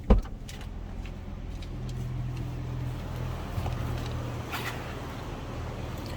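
Quiet cabin of a 2020 Chrysler 300S sedan with the engine running, a low steady hum and faint rumble after a brief opening thump, with no talking.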